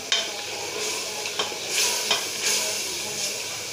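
Two spoons of cooking oil go into a pan for spinach beef curry, giving a close, continuous sizzle with a few scraping stirs and swelling bursts of frying.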